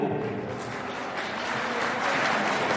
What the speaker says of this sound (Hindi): और नारायण जी के लिए जोरदार तालियां।